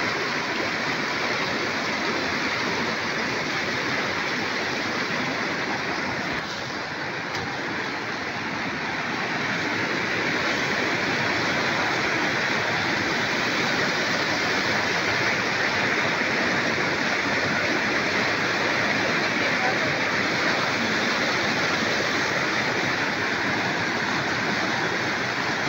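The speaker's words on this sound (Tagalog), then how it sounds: "na-stranded kami dito sa may creek. Medyo tumaas na po kasi yung tubig dahil kay Bagyong Nika." Swollen creek water rushes steadily after Typhoon Nika's rain left a river crossing without its bridge, a loud, unbroken roar that holds its level from start to finish with no voices.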